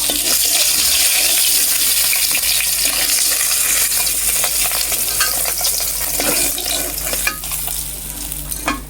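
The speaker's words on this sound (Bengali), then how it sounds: "আমার ছোট মেয়ের জন্য এই মাছটা ভাজি করবো।" Fish fries in oil with a loud, close, continuous crackling sizzle that roars on without a break, with sharper pops toward the end and no speech.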